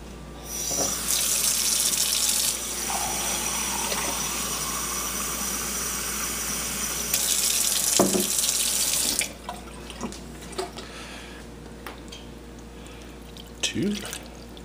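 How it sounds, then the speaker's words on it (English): Water gushes from a tap in two loud bursts separated by a quieter stretch of trickling, then stops, leaving faint clinks and drips. "Water's flowing"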